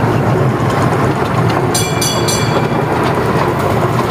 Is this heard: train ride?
yes